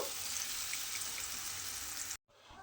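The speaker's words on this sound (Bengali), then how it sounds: "দেখুন এইভাবে কিন্তু এটাকে একটু সময় নেড়ে নেড়ে এটাকে রান্না করে নেব।" Spinach dhoka batter for a Bengali vegetarian dish sizzles steadily in a hot pan while being stirred, a dense, even frying hiss that cuts off abruptly near the end before resuming more faintly.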